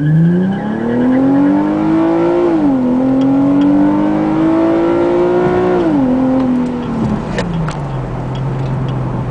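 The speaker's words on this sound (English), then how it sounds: "Infiniti G37 Sport coupe with Greddy TI-C dual catback exhaust. This is interior sound with the windows up." Inside an Infiniti G37 Sport coupe fitted with a Greddy TI-C dual catback exhaust, windows up, the engine drones loudly and steadily as revs climb, dip briefly at a shift, climb again, then drop back to a low idle.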